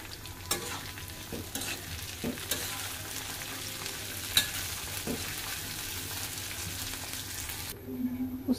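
Potatoes, onion and chillies frying in hot oil, a steady crackling sizzle with scattered sharp ticks and occasional spatula clacks against the pan, close and unbroken until it quiets near the end.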